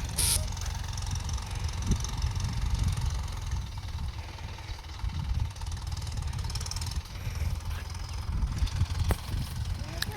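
A low tractor engine rumbles steadily throughout, with a faint mechanical clatter and a sharp click near the end.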